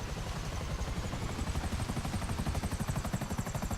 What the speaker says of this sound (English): I have my Pegasus chopper here, I'm using it.